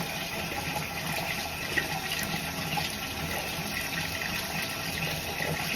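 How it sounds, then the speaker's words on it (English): Water running and splashing steadily while it is worked into a sectioned 18-inch curly wig during detangling, a continuous wet gush close by with no talking. "And I'm just sectioning off and putting the water in right now."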